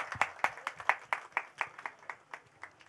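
A small group at a political meeting on unemployment claps in scattered, fairly slow beats, about a dozen distinct claps over a few seconds, fading slightly toward the end.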